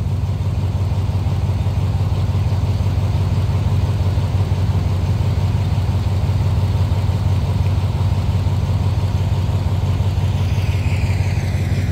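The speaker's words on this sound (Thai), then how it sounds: "อันนี้ขบวน726นะครับจอดรอทางใช้หัวรถจักร Astom 4226" Alstom locomotive 4226 idles while it waits with train 726, giving off a steady, continuous low diesel rumble that stays close and unbroken throughout.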